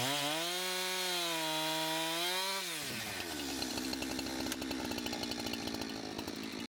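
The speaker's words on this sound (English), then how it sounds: "I'm going to set that up and start milling down some of these big logs into usable" An Alaskan chainsaw mill cuts through big logs to make timber. The saw idles and revs at first, then bogs into a steady, loud, gritty cut that runs continuously to the end, with no talk.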